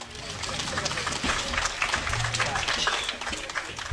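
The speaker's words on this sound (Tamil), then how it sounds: "ஒரு கைதட்டு கொடுக்கலாம்." An audience at a live comedy show claps for a few seconds, the applause mixed with overlapping voices.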